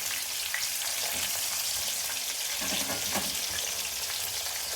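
Eggplant bajji sizzles and crackles in hot oil, a steady close hiss that fills the whole stretch with bursts of bubbling.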